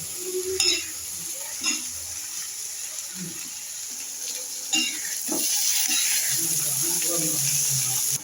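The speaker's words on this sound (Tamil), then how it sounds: "எண்ணெயிலேயே வதக்கணும்" Ridge gourd peel sautés in oil with a soft sizzle and intermittent stirring and scraping, heard close and steady, with scattered low thumps and clatter alongside.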